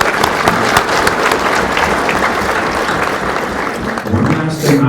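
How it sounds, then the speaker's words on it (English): Sustained audience applause fills a conference hall during a grasslands summit panel on returning cropland to working grassland, dense steady clapping throughout with a few voices mixed in near the end. "let's give those spouses a round of applause"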